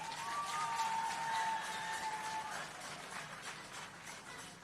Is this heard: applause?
yes